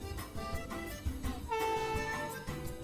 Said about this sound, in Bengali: আমাদের ট্রেনটা অবশেষে চলে আসলো